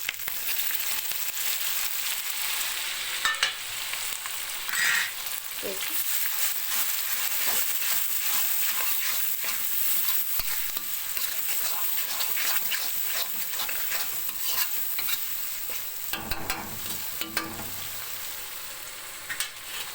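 Tomatoes fry in hot oil for tomato rice, a steady loud sizzle with scraping stir strokes and clatter of a utensil against the pan throughout.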